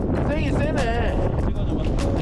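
Strong wind buffeting the microphone on the Seonjaryeong mountain ridge, a loud steady roar with gusty rumble, while a voice speaks briefly over it near the start.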